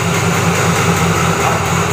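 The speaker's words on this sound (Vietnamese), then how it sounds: "bạn nghe cái tiếng bô này" A Simson S51 moped engine idles through an MZA exhaust, a steady low rumbling drone recorded close to the exhaust, constant and loud with no talking.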